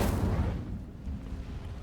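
Fire spell Incendio cast in the Hogwarts Legacy video game: a loud, deep whooshing burst at the start that rumbles on and slowly fades over two seconds.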